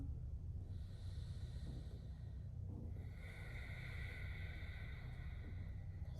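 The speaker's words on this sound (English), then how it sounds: "Now let's find your breathing." Steady breathing during an energetic yoga flow, heard as continuous airy breaths with a snort-like texture that stay at an even level throughout, close to the microphone.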